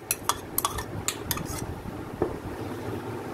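Fried onion scraped into a grinder jug, with several sharp metallic clinks of a spoon against the jug early on, then softer, sparser scraping before it settles.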